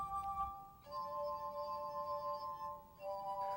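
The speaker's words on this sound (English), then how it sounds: "I play the glass harp" A glass harp made of brandy snifters of many sizes is played, clear ringing tones that sustain and overlap, changing pitch a few times, quiet and close with a soft hiss underneath.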